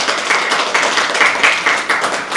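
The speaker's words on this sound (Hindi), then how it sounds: "आप सभी से अनुरोध को एक बार जोरदार तालियों के साथ उनका स्वागत करें।" An audience at the Bihar Development Summit at Subharti University claps enthusiastically to welcome the chief guest, with dense, continuous applause close by.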